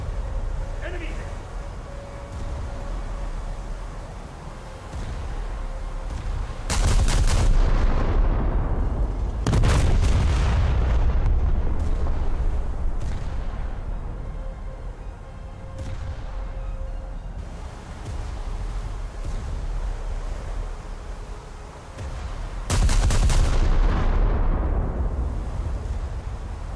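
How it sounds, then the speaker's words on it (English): HMS Barham's 15-inch guns firing in a naval warship game: three heavy, booming salvos spread over the stretch, each a deep blast with a rolling tail, set against steady engine and sea rumble with a voice speaking between them. "15-inch guns are letting me down a little bit"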